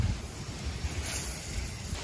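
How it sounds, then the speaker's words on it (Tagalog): Strong wind at a seaside campsite roars steadily, buffeting the microphone with a continuous low rumble and hiss and no pauses. "sobrang lakas ng hangin"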